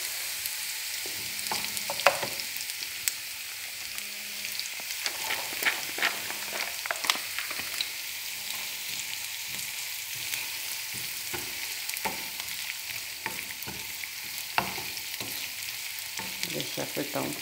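Boletus mushrooms fry in olive oil with garlic in a pan, a steady soft sizzle with occasional crackles and stirring clinks throughout, fairly quiet and close.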